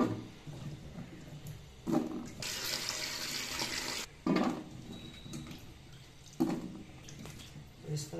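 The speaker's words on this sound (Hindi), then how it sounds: "इस तरह से मैंने सारे को तीन चार पानी से वॉश कर लूँ" Water runs and splashes into a bowl or sink as raw mango pieces are washed, in several separate bursts with quiet pauses between them, fairly close.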